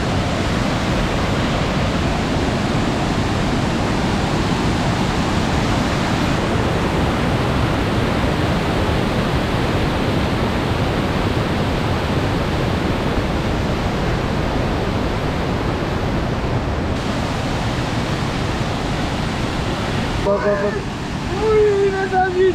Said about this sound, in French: Passage de la passerelle au-dessus des cascades